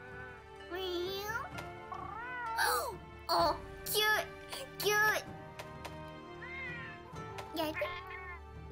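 A cat companion in Monster Hunter Rise lets out a run of high, wavering meows of varying length, close and fairly loud. Human voices mimic the meowing between them.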